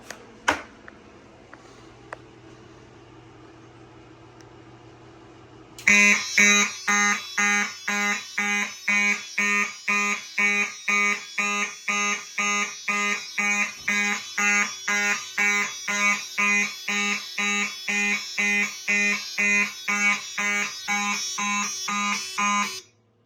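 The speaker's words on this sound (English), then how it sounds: "So this is an ionization smoke detector" A loud, piercing ionization smoke detector beeps in a rapid repeating pattern after a few seconds of quiet room noise, set off by test spray, continuing without pause.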